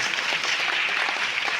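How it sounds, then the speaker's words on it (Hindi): Dense, steady clapping from a crowd at a Republic Day ceremony, a continuous wash of many hands with no clear individual claps, filling a short stretch at even loudness. "बस करो भैया, ताली बंदी।"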